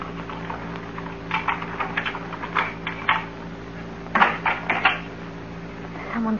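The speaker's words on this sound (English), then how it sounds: "But I heard footsteps outside the house." Footsteps sound effect in an old radio drama: a series of soft, evenly spaced thuds approaching outside a house, moderately close over a steady low hum, with a louder cluster of steps near the end.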